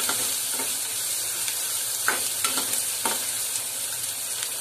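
Onions and cumin seeds sauté in oil in a pan, a steady close sizzle broken by a handful of distinct scraping stirs of the spatula, no voices.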